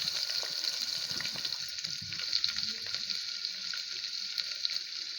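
Onions for a mint pulao frying in a pan, a steady broad sizzle with crackling spits, continuous and fairly close, no talking.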